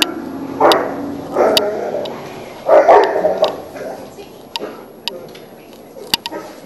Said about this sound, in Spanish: Hubo una pequeña interrupción porque había un perro